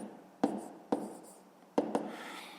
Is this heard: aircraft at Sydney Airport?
no